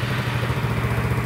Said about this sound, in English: The exhaust note is a little bit loud,